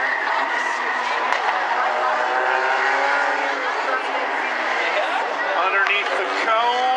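Bumblebee division race cars roar around the South Sound Speedway track at the green flag, a dense continuous high-pitched engine drone from several cars with a track announcer talking over it.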